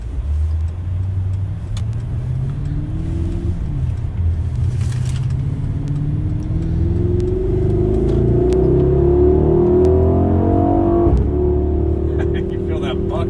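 A 2021 Mercedes-AMG GLS 63 SUV pulls away hard from a standing start, its engine note climbing steadily with a loud, continuous rumble heard from inside the cabin, while people talk over it.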